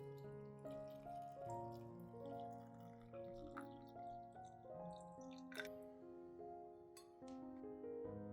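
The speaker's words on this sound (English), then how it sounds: "Then pour in 200 milliliters of natural vinegar." Natural vinegar pours into a glass jar with a rising, ringing gurgle whose pitch climbs as the vessel fills, joined by a few faint clinks and drips, quiet and close.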